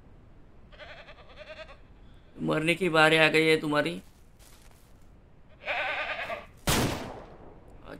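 Goats in the farming game Ranch Simulator let out a loud, wavering bleat, then a shorter one, amid someone talking, with a sharp gunshot cracking near the end.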